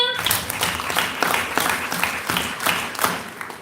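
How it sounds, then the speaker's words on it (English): Audience applause at an education conclave, a steady wash of many hands clapping at once, moderately loud and continuous throughout. "Now a big round of applause to the organizers"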